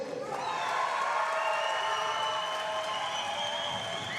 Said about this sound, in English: Please put a big round of applause for Adamo Japao